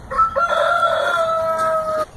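A rooster crows loudly and close on a farm with Jersey Giant chickens, one drawn-out tonal call lasting about two seconds with no talk.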